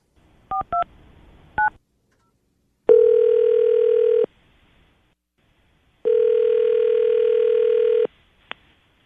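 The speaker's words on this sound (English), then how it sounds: "I'm going to call him right now" Touch-tone keys are dialed in quick beeps on a telephone call, followed by two long, steady ringback tones separated by a pause, then a short blip.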